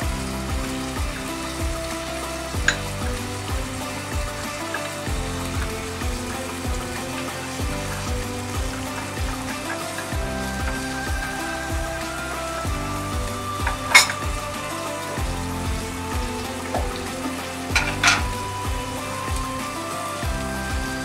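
Tomatoes frying in a pan over a high flame for seekh kabab biryani, a steady close sizzle with stirring clatter and a few sharp utensil knocks, no voices.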